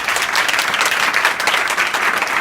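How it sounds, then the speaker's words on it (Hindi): Schoolchildren at Shri Durga Ji Madhyamik Vidyalaya in Dayalpur, Azamgarh, burst into loud, dense applause that rolls on steadily without pause, many hands clapping at once in an indoor gathering, with no speech over it. "चौबे जी के लिए जोरदार ताली बजा देना।"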